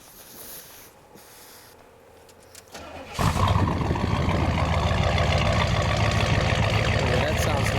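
A 1971 Buick Riviera GS with a 455 V8 cranks and catches at about three seconds, then settles into a loud, steady, rumbling idle close by.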